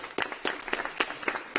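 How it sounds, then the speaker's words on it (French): Sparse, scattered hand claps from a small student audience at a school association debate, a handful of separate bursts over a moment rather than a full ovation, with no talking. "On peut applaudir."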